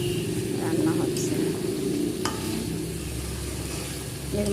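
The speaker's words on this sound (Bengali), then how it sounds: "এখন এই দেখো রান্না হচ্ছে" Food cooks in a pan with a continuous close sizzle and soft stirring scrapes.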